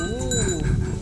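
Sheep bleat on a Croatian farm where cows and sheep are kept, giving a single drawn-out wavering call that sits close and loud over a bed of low, rumbling outdoor noise.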